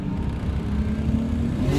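A Nissan Skyline making over 300 horsepower revs hard under a full-throttle pull, its loud, continuous engine note climbing steadily in pitch across a short burst.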